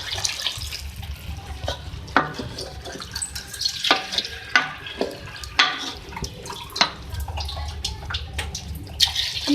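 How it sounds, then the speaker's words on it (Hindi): Water is poured into a cooking pot of chana dal and bottle gourd (lauki) in a home kitchen, a steady splashing pour with scattered clinks and drips, close and fairly quiet, no talking. "अब इसके अंदर हम पानी ऐड करेंगे इसको कुक करने के लिए 2 कप।"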